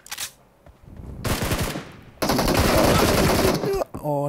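Loud, close gunfire in the PUBG Mobile video game: a short burst, then sustained rapid automatic fire in long dense volleys that cut off abruptly, with a brief tonal game sound at the end.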